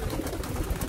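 Pigeons in a loft give a steady, low murmur of cooing that runs through the whole second, close and moderately loud, with no talk over it.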